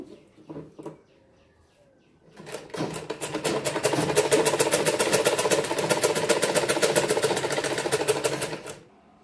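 Sewing machine stitching a girl's half pant: a couple of brief starts, then a steady run of rapid, evenly spaced needle strokes for several seconds before stopping, close and clear with no talk.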